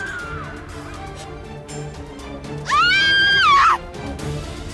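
A loud, high-pitched scream rises and holds for about a second in the Re:Zero video game, with a quieter cry just before it over low game ambience.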